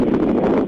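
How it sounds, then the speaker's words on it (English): Steady wind buffeting a phone microphone during a recorded call, a continuous loud low rumble and roar with no pauses and no voices. "Very windy."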